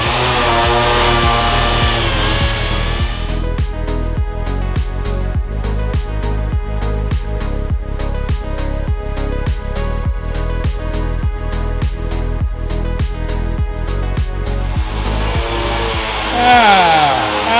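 A 40-grit sander working the bodywork of a 1964 Ford Galaxie, a loud, steady, close machine whine with rapid rhythmic pulsing through most of the run, winding down near the end.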